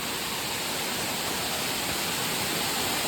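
Amboli waterfall roaring steadily and close, a dense unbroken rush of falling water with no voices.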